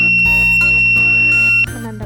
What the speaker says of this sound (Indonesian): Alarm akan berbunyi,